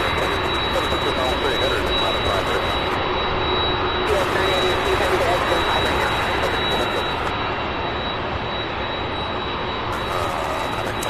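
Jet engines on aircraft pushing back and taxiing at SDF airport, a loud continuous roar with a steady high whine, heard from a nearby spotting position.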